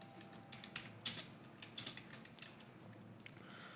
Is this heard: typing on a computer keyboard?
yes